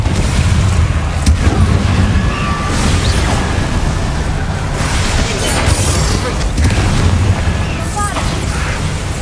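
In Hogwarts Legacy, the Confringo explosion spell lands in loud, booming blasts within constant dense combat noise, with a voice briefly heard among the effects.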